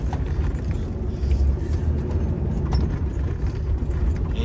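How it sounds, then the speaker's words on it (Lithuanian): Steady, loud low rumble of morning road traffic in Biržai, a continuous vehicle drone that holds evenly throughout with no pauses or distinct passes. "Eismas stiprus vyksta Biržuose ryte"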